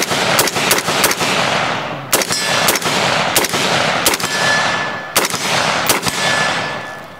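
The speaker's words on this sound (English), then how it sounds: "Let's do like a little mag dump." Rapid gunfire as a magazine is dumped at a target on a range, loud close bursts of shots in several strings separated by brief pauses, each followed by a ringing decay.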